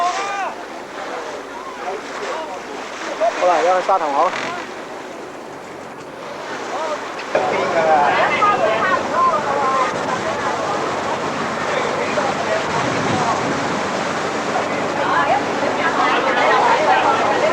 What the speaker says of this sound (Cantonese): 因為風浪太大咧